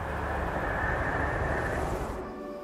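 Helicopter in Far Cry 5, a dense, loud rotor-and-engine roar that holds steady, then eases slightly near the end, with no talk over it.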